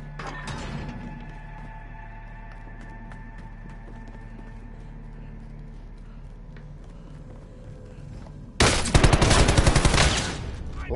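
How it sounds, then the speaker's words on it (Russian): Gunfire in the fighting game Mortal Kombat X, erupting as a loud, dense burst of rapid shots near the end after a stretch of steady in-game ambience. "кто-то стреляет"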